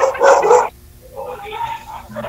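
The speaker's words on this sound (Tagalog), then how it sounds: "Maingay na yung aso." A dog barks sharply once, then smaller yips and whimpers follow, close by, with someone talking over them.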